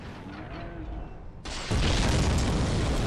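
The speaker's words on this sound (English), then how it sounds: "That's the lovely explosion we've all been waiting for" A deep, roaring explosion in the Dark Souls video game bursts in partway through and keeps rumbling loudly to the end. Quieter game ambience comes before it, with no clear talk.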